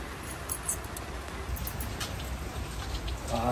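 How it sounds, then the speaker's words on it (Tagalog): Heavy rain falls steadily and close by in an outdoor spot during a hailstorm warning, a dense continuous patter of drops hitting surfaces throughout with no speech. "Grabe yung ulan. Hanggang ngayon, nag-uulan."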